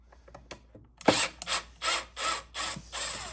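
Milwaukee M12 drill driving screws in quick succession, a series of short, loud, whining bursts of motor and ratcheting clutch, each lasting under a second with brief pauses between, preceded by faint clicks.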